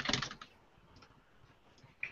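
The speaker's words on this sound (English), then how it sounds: "Right, so I'm typing in Jack Waldron." Typing on a computer keyboard, a quick flurry of clicking keystrokes followed by sparser, softer taps and a final cluster of keys.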